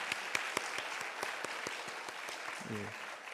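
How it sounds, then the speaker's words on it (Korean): Church congregation applauding a performance during a Sunday environmental mission service, a steady moderate patter of clapping with a few sharper claps standing out and a brief voice near the end. "우리 한 번 더 격려와 감사의 박수 한번 드렸으면 좋겠습니다."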